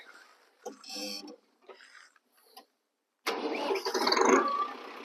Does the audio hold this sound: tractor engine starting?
yes